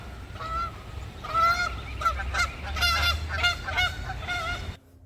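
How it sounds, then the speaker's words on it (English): A flock of geese honks outdoors in a park, with a steady run of loud, overlapping nasal calls close by that cut off abruptly at the end. "There's some geese."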